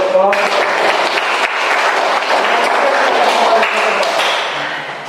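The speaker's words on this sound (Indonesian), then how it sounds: "Kita berikan tepuk tangan untuk kelompok" Classroom applause for a student presentation group during a teaching practice session, a loud, dense burst of clapping that fills the room and holds steady for about five seconds before easing slightly at the end.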